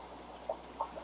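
Bacteria starter liquid poured into a home aquarium tank in a fish room, a faint soft trickle with a couple of small splashy blips over a low steady hum.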